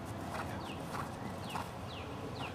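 A horse walks under a rider during a riding lesson, its hooves clip-clopping in a steady, fairly faint rhythm against constant background noise, with bird chirps scattered through.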